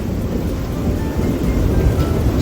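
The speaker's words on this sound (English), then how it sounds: "That sound of thunder is pretty stinking cool." Low rumbling thunder rolls continuously beneath steady rainfall, a deep broad roar with no voices.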